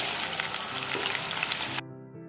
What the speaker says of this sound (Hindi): तेल के गर्म होते ही इसमें डालें आलू को